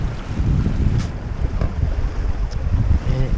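A Mini 6.50 sailboat racing in the Plastimo Lorient 2018 glides over a fairly flat sea in light wind of about six knots. Low wind buffets the microphone and water rushes softly and continuously past the hull, with no talking.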